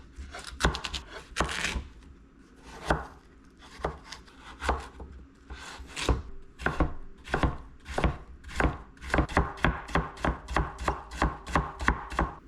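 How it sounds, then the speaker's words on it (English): A knife thinly slices daikon radish for Japanese fukujinzuke pickle on a cutting board, with sharp crisp chops that start sparse and grow into a fast, steady run, recorded close up with no talk. "Cut the daikon into manageable strips, and then slice it thinly."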